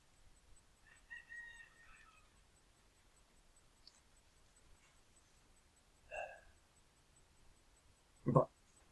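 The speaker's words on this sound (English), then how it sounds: "They're going to hear my rooster out back" A backyard rooster crows faintly from a distance, a few short calls spread over several seconds against a quiet background, ending in one louder, closer burst.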